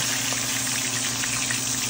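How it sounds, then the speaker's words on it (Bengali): Fresh river fish frying in a pan just after being flipped to cook the other side, a loud, close, steady sizzle that hisses evenly throughout with no pauses or talk. "এখন অপর পাশ ভাজা হবে,"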